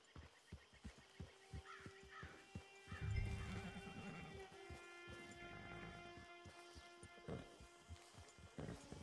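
A horse neighs and hooves clop in Red Dead Online, with steady clip-clop steps throughout, a louder whinny early on and a crow cawing in the background, all fairly close with no talk.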